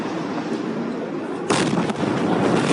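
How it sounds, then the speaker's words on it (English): A sudden loud blast from an ammonium nitrate explosion at Beirut's port rumbles through steady background noise, followed by a sustained roar of sound. "An explosion ripped through Beirut's port."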